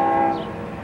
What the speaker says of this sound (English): got two trains coming at once here